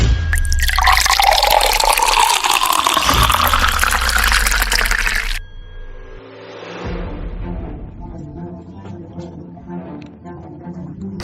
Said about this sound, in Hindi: सर ये कीचड़ वाला पानी कहाँ से आ गया?